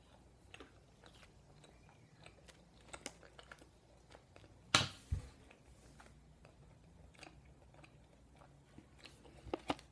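Close, quiet mouth sounds of someone eating Juicy Drop gummy candy with syrup, soft irregular smacks and clicks with one louder burst partway through.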